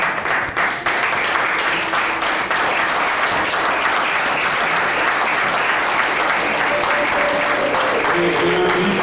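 Loud, continuous audience applause welcoming an author at a book launch, thick steady clapping from a large crowd with a faint voice underneath.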